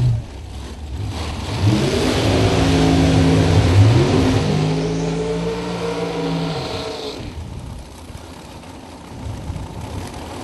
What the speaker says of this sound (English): That's the supercharged car.